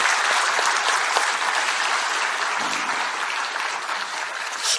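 Steady, dense applause from newly elected Democratic Party lawmakers at a party assembly, honoring defeated candidates and party members; loud and sustained throughout with no talk over it.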